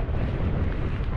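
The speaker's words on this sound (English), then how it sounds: "it's getting really windy." Strong wind buffets the microphone on an exposed mountain ridge in the fells, a steady, loud roaring rumble with no pause across the short stretch.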